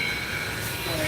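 Southern #630 steam locomotive runs under way as heard from inside the cab, a dense, loud, steady roar with a high metallic whine.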